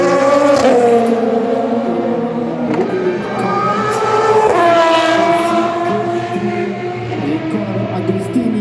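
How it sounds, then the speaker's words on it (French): A Ferrari GT3 race car lapping at Le Mans during 24 Hours free practice: a loud, close engine roar whose pitch climbs through the gears, drops on a downshift, then climbs again, continuous throughout with no talk. "Riccardo Agostini dans la Ferrari GT3 numéro 150 en 9e position actuellement au tableau de GT3"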